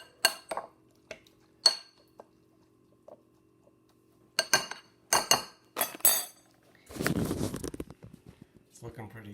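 Garden salsa stirred in a bowl with a utensil: scattered clinks and scrapes against the bowl, then a denser wet churning burst near the end, close and uneven, with pauses between strokes.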